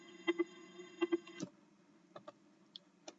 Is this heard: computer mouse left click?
yes